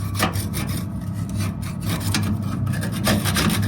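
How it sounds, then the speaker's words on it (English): A screwdriver scrapes carbon buildup from inside a Harman pellet stove, loud close rasping strokes in a quick irregular rhythm, with no talking. "you take this screwdriver and get rid of all that carbon in"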